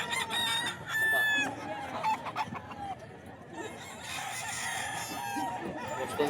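Boston Sweater gamecock roosters crow repeatedly at moderate distance, overlapping calls and clucks in a busy farmyard with steady background noise.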